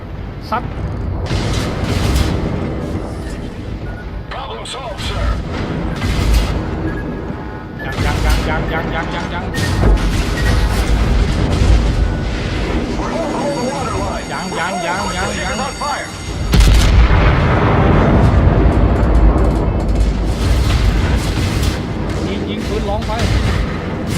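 Naval gunfire from the battleship USS North Carolina in World of Warships, with repeated loud booming salvos and explosions over continuous battle noise, under excited talk.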